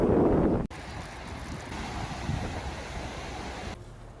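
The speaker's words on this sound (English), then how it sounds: "it is slightly windy today as well" Steady broadband wind noise buffets the microphone for several seconds at Byron Bay, a continuous rushing roar with no voices.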